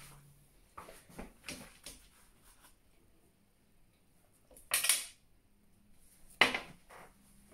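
A spoon clinks and scrapes against a dish while instant gravy mix is stirred, with soft taps followed by two sharper, louder clinks in a quiet kitchen.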